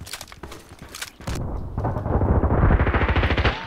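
Kriss Vector SMG gunfire in Contract Wars, a few sharp single shots followed by a fast, loud, continuous automatic burst.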